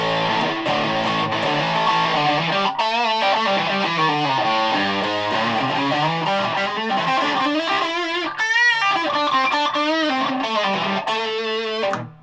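A humbucker-equipped Yamaha ERG121C electric guitar runs through a Rat distortion pedal, playing loud, continuous overdriven chords and melodic runs with sustained notes and a short pause midway before ringing out.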